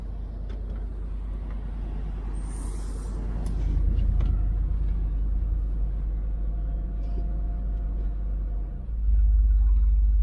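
A 1976 El Camino that sat for 20 years idles with a low, steady rumble. The engine note swells as the truck is put in gear and starts moving, then a deeper thud comes near the end. The sound is close and no one talks.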